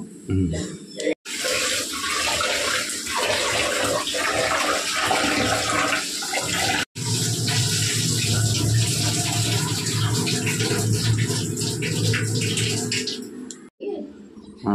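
Tap water runs hard and steady while lentils are rinsed in a home kitchen, a loud continuous splash that stops briefly twice.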